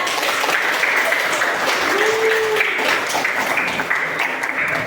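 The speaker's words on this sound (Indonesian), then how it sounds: "Boleh dong kasih aplaus ke ibu yang bercerita." An audience in a school counseling session claps, a dense, steady wash of applause lasting the whole stretch at even loudness, with a brief voice or tone rising faintly underneath midway.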